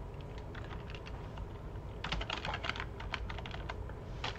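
Rapid typing on a computer keyboard while entering network settings during a server installation, soft scattered key clicks that grow into a brisk, close burst of keystrokes in a quiet room.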